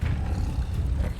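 An Incendio fire spell is cast in Hogwarts Legacy, giving a continuous deep roaring rumble that sustains for about a second with a brighter burst near the end, loud and without talk.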